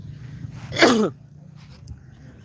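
A person with a heavy cold gives a single harsh, forceful cough, close to the microphone, with a quiet room behind it.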